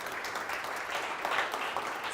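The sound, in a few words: applause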